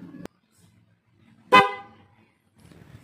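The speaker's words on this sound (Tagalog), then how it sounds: "Pag pinindot ko yung horn switch, no? Ayan, at ilaw siya at tutunog syempre yung ating busina." PIAA horn fitted to a Honda Click motorcycle gives one short, loud, bright blast after a brief click of the switch, with quiet night-time surroundings before and after.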